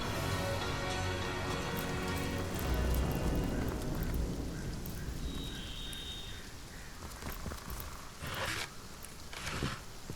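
Steady heavy rain pours in the Divinity video game, a dense continuous hiss of falling drops that fills the whole stretch at an even level, with no voices.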